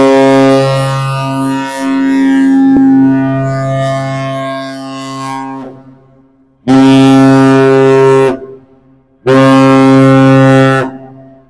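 Deep, loud horn of a 1,000-foot freighter leaving Duluth for Lake Superior in sub-zero cold, three long blasts: a first sustained note of about five seconds, then two shorter blasts separated by silence.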